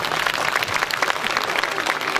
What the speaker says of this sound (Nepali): यो डान्सर्सहरूको लागि जोरदार ताली बजाइदिनुहोस्